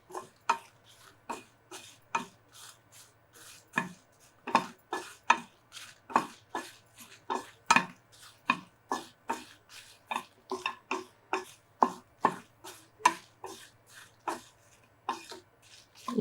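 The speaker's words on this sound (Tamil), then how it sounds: "இதுவும் ஓரளவு கைவிடாமல் தீயை குறைச்சி வச்சு நல்லா வறுத்துருங்க." Red chillies are dry roasted in a pan over low heat for horse gram thuvaiyal, a quiet, dry rattle and scrape of stirring strokes repeating about once or twice a second, close and without voices.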